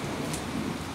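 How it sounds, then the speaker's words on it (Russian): A brief burst of steady, slanting rain, a dense, even hiss of drops hitting a surface, fairly faint. "Косой дождь пошел."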